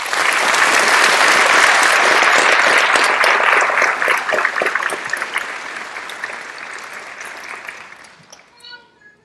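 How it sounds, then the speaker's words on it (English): Audience applause at a sheriff's academy graduation, loud and sustained for several seconds before thinning into scattered claps and fading, with a voice briefly audible near the end. "Again, ladies and gentlemen, give them a round of applause."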